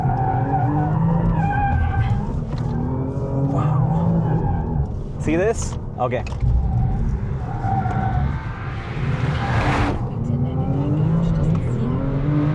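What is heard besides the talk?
2026 Audi RS5 tires skidding, understeer on circuit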